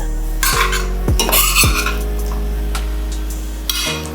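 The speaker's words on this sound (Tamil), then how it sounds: "எல்லாத்தையும் போட்டு மிக்ஸ் பண்ணுறேன்." Spices stirred into chicken gravy in an AMC cookware pot, a few sharp metallic scrapes and clinks of a spoon against the pot, close and loud, with a low steady hum beneath.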